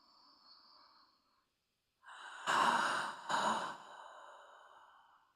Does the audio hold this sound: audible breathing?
yes